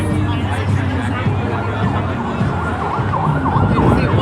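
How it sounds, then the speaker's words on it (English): A loud ambulance siren wails with repeating rising and falling tones on a Los Angeles street, heard over traffic rumble and people talking. "That's an ambulance."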